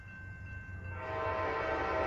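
An Amtrak Coast Starlight passenger train heading southbound on main track 1 sounds a steady horn tone from a distance while the rumble of its approach grows louder toward the end.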